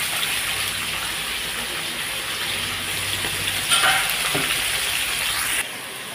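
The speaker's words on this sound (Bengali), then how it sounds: "এটার মধ্যে তেলও আমি দিয়ে দিচ্ছি কড়াইয়ের মধ্যে। কড়াইটা গরম হয়ে গেছে," Oil sizzling steadily in a hot kadai over a gas flame, a continuous close frying hiss with a few brief clatters near the end.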